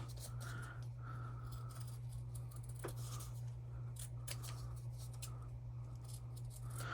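Scissors trim paper shapes close up, a series of quiet crisp snips and slicing strokes at an uneven pace over a steady low electrical hum.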